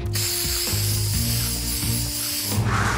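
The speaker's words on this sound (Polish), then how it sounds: "Spray z farbą!" A cartoon spray paint can hisses steadily as it sprays a parking line, with clicking ratchet-like mechanical tones underneath and a brief burst at the end.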